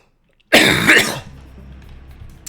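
A single loud, harsh cough burst lasting under a second, followed by quieter room noise and faint background tones from a space game.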